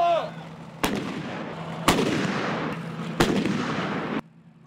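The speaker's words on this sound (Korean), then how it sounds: "자주포의 포신이 요동치며 불을 뿜습니다." K-55A1 self-propelled howitzers fire artillery shells on an open field: three thunderous, close blasts about a second apart, each followed by a rolling, smoky roar that fades before the next shot.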